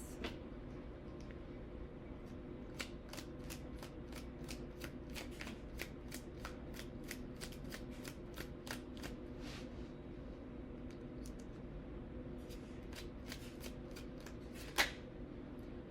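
Tarot deck shuffled with a quick, even run of crisp card riffles, close but faint over a low steady room hum, one sharper tap near the end; no speech.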